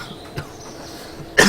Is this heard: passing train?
no